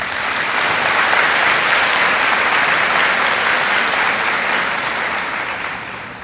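A graduation audience applauds at Rocky Mount High School, dense steady clapping filling the hall loudly for several seconds before tapering slightly at the end.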